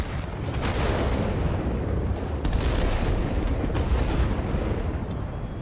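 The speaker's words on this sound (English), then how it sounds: "Let's drop a bomb here." Heavy continuous rumbling blasts from aerial bombs in the World of Warplanes flight game, with a few sharper bursts standing out over a dense, loud roar of battle and engine noise.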